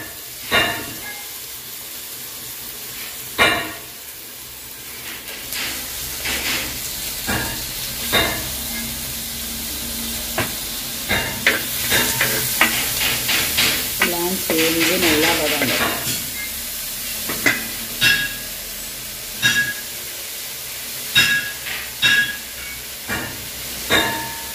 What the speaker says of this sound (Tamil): தக்காளி பழம் வெங்காயமா எல்லாமே நல்லா வதங்கி வந்து